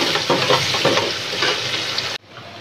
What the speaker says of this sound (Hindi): प्याज जाने के बाद इसे भूनेंगे